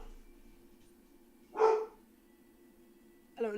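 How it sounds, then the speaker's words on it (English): A dog gives a single sharp bark midway, then a shorter second bark or yip at the end, fairly close, over a low steady background hum. "I don't know what he's barking at"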